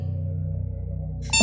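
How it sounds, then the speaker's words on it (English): An alarm clock in the dating game Dream Daddy gives a short, sharp electronic beep near the end, cutting in suddenly over a low, steady game music bed. "I jolt awake to the sound of my alarm."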